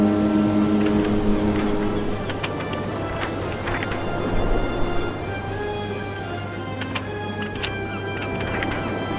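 Ocean liner MS Epomeo at sea in a Tintin video game, a steady low engine drone and hum with soft clattering and creaks over it, continuous and even throughout.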